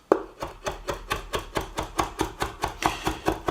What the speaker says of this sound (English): or you can have it very thinly chopped